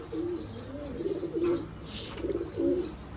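Pigeons in a breeding room coo in repeated soft, rhythmic phrases, close by, with a few chirps mixed in and no talk.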